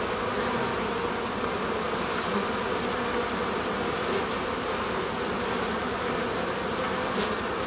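Honeybees at an auxiliary hive nucleus fill the air with a dense, continuous buzzing, steady and close throughout with no voices.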